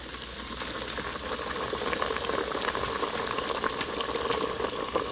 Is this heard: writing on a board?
no